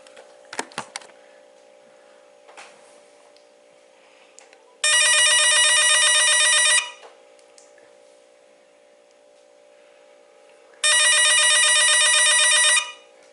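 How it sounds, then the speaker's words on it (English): An AT&T CL4939 cordless telephone ringer trills loudly in two long electronic bursts a few seconds apart, with faint clicks and handling noises before and between the rings. "the ringer is going to be very, very loud"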